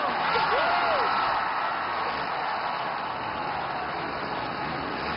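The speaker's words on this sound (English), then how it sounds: "this Rogers Center crowd is on their feet and cheering" Supercross crowd at Toronto's Rogers Centre cheering on its feet, a steady loud roar filling the stadium alongside the drone of dirt bike engines, with commentary heard over it.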